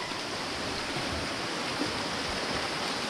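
Clear running water of a cold, shallow mountain stream in Sariaya, Quezon, a steady broadband rushing flow, close and fairly soft, with no voices.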